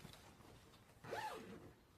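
A zipper on a handmade DIY cross body bag with lining and a secret pocket is pulled in one short, close rasping stroke, faint against quiet room tone.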